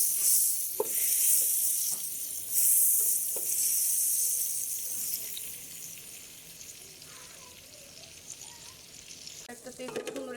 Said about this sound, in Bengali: আমি ডেকচিটা গরম করে বাটারটা একটু দিয়ে দিচ্ছি, যাতে মেল্ট হয়ে যায়